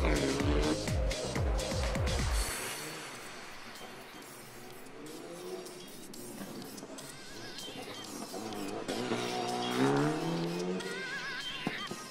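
An Alpine A110 rally car passes on a Rallye du Chablais 2022 stage at Champéry, its engine revving and shifting through gears, rising and fading, while a commentator talks over it.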